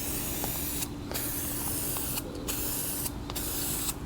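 A rattle can sprays paint onto the side covers of a 1979 Honda CB750K in a loud, continuous close hiss, broken by three brief pauses between passes, with no speech.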